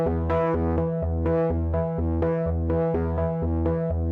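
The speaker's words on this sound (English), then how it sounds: "a Rhodes that comes in." A Rhodes electric piano repeats the same note in octaves with a steady pulse, about two strikes per second, bright and warm, with no talking.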